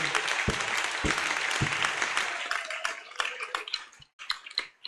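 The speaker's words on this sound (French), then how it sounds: "Acclamons le Seigneur" A church seminar congregation bursts into dense, loud applause that carries for a couple of seconds, then thins into scattered, separate claps before fading out.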